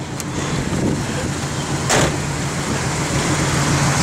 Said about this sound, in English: It's got blower motor,